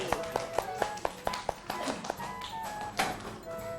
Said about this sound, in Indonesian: Tepuk tangan untuk kelompok polisi.